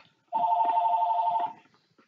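A telephone rings in a Minecraft Hide and Seek game on the Hive server, one steady electronic trill about a second long that is clear and close before it fades out.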